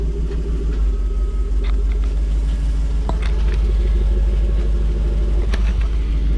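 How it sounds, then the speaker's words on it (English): Chevy delivery truck with an LS swap, engine running steadily at idle with a deep, continuous low rumble and a few faint clicks over the top, nearby and fairly loud throughout. "I love the sound of that LS."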